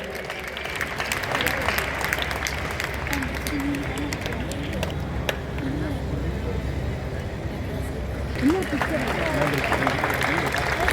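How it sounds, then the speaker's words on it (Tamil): An audience applauds in an indoor stadium during a sports-meet closing ceremony. The clapping is a steady, crackling wash of many hands that stays moderately loud and even throughout, with a faint voice briefly rising near the end. "அதனால ஒரு பலத்த கைத்தட்டல் கொடுக்கலாம்"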